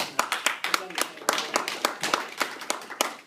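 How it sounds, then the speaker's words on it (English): A church audience gives a round of applause: sharp, distinct hand claps from a small group, fairly close, with voices in the background. "So let's give them a round of applause."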